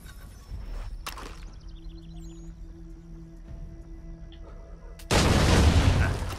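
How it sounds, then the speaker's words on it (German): An explosion blasting open a gate in Assassin's Creed 3 comes as a sudden loud burst of roaring noise near the end. Before it there is quieter game ambience with a short whooshing sweep, and no talking. "Damit können wir das Tor sprengen."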